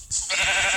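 A short, bright sheep bleat sounds in a video game, loud and fairly close, held with a raspy vibrato that lasts to the end.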